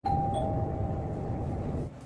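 A doorbell sounds once indoors, a clear electronic ding-dong chime that rings close and sustains for nearly two seconds before cutting off, with no speech over it.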